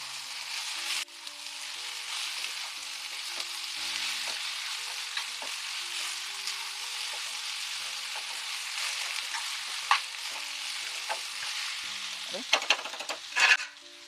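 Cabbage and brinjal pieces frying in a pan, a soft steady sizzle with faint occasional stirring clicks and a few louder scrapes near the end, quiet and without talk.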